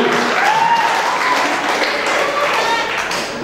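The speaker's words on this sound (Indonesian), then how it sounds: "Berikan tepuk tangan untuk drummernya." An audience applauds a drummer at a school arts and culture performance, with steady clapping and some faint tonal sounds and background voices mixed in.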